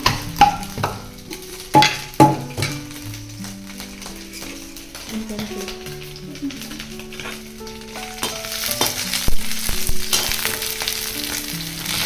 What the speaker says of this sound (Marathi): खोबरं भाजताना थोडंसं तेल टाकायचं म्हणजे ते चांगल्यापैकी भाजलं जातं.